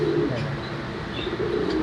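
Crested Andalusian pigeons coo in soft, low throaty calls close by, repeating over a steady background hiss.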